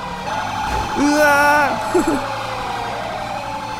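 Police siren wailing from a golf cart police car in GTA5, a loud rising-and-falling electronic tone that sweeps for a couple of seconds amid game engine noise, with a brief exclamation from a player.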